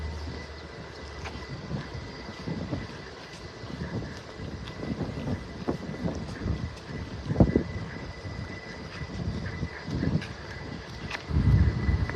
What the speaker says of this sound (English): That wind really starting to pick up now as we get closer to the beach.